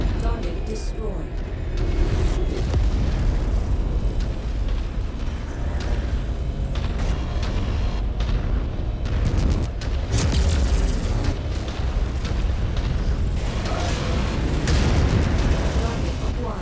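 A mech blows up in the game MechWarrior 5 Mercenaries during battle on planet Sarna, with loud, rumbling booms and bursts running through a chaotic mix of weapon fire and cockpit radio voices.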